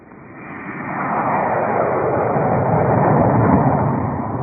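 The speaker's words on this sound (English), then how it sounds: "You're cleared for takeoff when ready." A 1950s USAF prototype jet aircraft taking off, its broad roaring engine noise swelling from quiet to a loud, sustained rush and then easing slightly, heard alone without talk.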